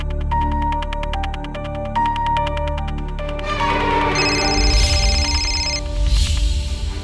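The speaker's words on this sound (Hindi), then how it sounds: "ये राघव फोन क्यों नहीं उठा रहा है?" A telephone rings in repeated electronic trills, steady and moderately loud, then the tone shifts into a brighter ringing pattern with rumbling noise underneath.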